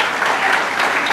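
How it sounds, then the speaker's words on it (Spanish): Dense audience applause at a class-of-'82 reunion, a continuous wash of many hands clapping at moderate loudness, brief and without speech over it. "Que merece un aplauso."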